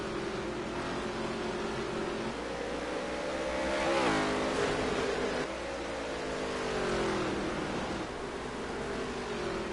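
Race car engines roaring and climbing through the revs in the NASCAR Heat 3 video game, a pack of stock cars accelerating on the restart with steady loud droning and rising pitch sweeps.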